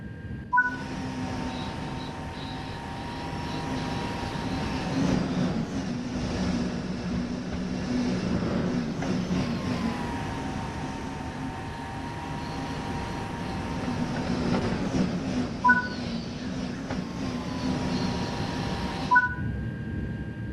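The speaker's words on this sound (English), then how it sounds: "Let's take a look now while the train is in motion." A TGV high-speed train in motion in the Train Sim World game gives a steady low rumble with rolling noise, interrupted by brief tonal whines and a couple of soft thumps, with no voices.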